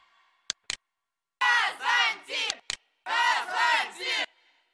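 Group-chanted 'Kazantip' vocal stacks recorded by a crowd of guys from St. Petersburg, run through a crowd chamber plugin: a couple of sharp clicks, then two loud bursts of massed shouting chant separated by a brief pause.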